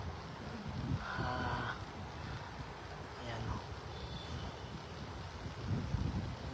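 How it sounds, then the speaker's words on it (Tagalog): Strong wind roars and buffets the microphone steadily, with a voice speaking briefly over the rumble. "Medyo malakas ang hangin"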